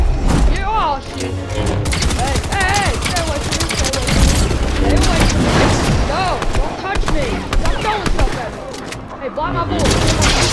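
Rapid gunfire in the video game Fortnite during a lightsaber-only match: dense, continuous bursts of shots and impacts, loud and close, with excited voices talking and shouting over it.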